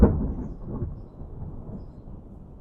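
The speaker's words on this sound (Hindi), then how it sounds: "इतना गरज रहा है भाई, मतलब तगड़ी बारिश आने वाली है ऐसा लग रहा है।" A deep rolling rumble of thunder during rain, loudest at the start and slowly fading, with no voices present.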